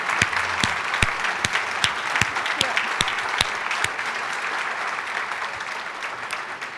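Steady applause from a crowd, a dense wash of clapping with sharp individual claps standing out, fairly close and continuous throughout.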